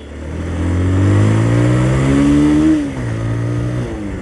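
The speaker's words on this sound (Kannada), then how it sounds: "ಯಪ್ಪ ಸಕ್ಕದಾಗೋಯ್ತಲ್ಲೋ ಸೈಲೆನ್ಸರ್ ಸೌಂಡು" A motorcycle exhaust revs up close, the engine note climbing to a loud peak, holding, then dropping sharply before settling back into a throaty idle, with no talking.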